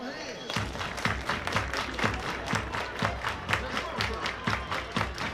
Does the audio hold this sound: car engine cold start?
no